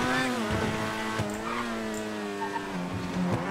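Inside GTA V, a game car's engine whines at high revs with a tonal, slightly wavering pitch and short tire squeals, loud and continuous, with no talk.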